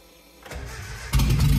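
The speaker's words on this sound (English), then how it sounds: "I'm like so confident it's gonna fire off." A Datsun 620 engine that has sat for 30 years cranks and then catches, jumping to a louder, rough running roar partway through, close and loud with no talking.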